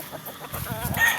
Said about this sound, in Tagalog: Ang galing talaga ni Kapitan magpatuka ng manok